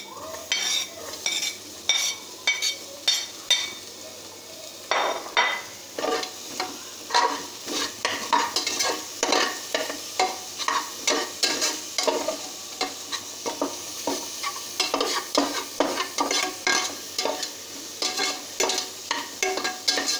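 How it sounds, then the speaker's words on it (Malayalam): Sliced onions dropped into a pan with green chili paste, sizzling and frying while a utensil stirs and scrapes in quick repeated strokes, close and without speech. "ഇതിലേക്ക് നമ്മുടെ സവാള ഇട്ട് കൊടുക്കാം"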